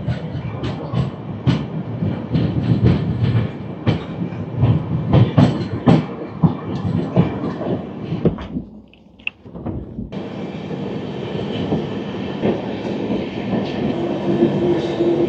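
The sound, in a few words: train running on tracks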